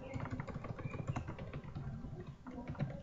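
Rapid, fairly steady clicking of a computer keyboard as database entries are typed, set against a low background hum with no talk.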